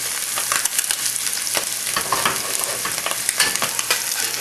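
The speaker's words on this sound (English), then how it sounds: "Cooking our egg in the back." Bacon and an egg fry on a hot griddle for a chivito sandwich, giving a steady, close crackling sizzle with scattered pops and light scraping from stirring.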